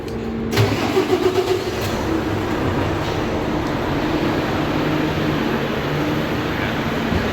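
Truck engine idling aboard a ferry as it docks, a steady low rumble with a brief louder surge near the start and a constant mechanical drone underneath.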